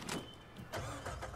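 A car in Uncharted 4 starting up and pulling away, a brief mid-pitched engine rev that swells after a short pause, heard close up in a game scene.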